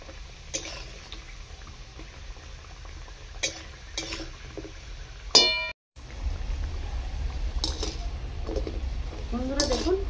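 Semolina jalebi fry in hot oil with a steady low sizzle, broken by occasional clinks of utensils and a person speaking quietly over the cooking.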